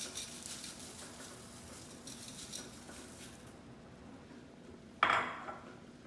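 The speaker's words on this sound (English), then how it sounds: "I'm gonna add in the rice now." Rice is tipped into a paella pan with a sudden pattering rush partway through, after a quiet stretch of faint kitchen clinks and light background hiss.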